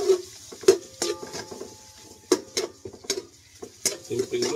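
White onions cook in a pan for a Filipino-style fish bistek, with a utensil stirring and clinking against the pan over a low, close sizzle. Sharp, scattered metallic knocks rise above the soft frying.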